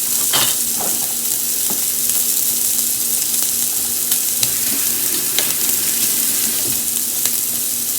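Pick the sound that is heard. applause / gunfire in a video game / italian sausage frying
italian sausage frying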